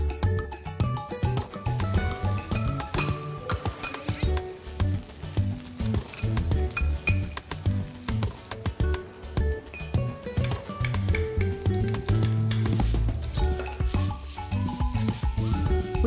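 Snails and pepper sizzle steadily in hot oil in a pan for a spicy stir-fry, with frequent clinks and scrapes of a utensil stirring throughout.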